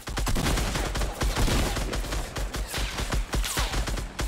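Rapid automatic gunfire in Fortnite, a loud dense fusillade of overlapping shots with sharp bursts continuing without pause across the clip.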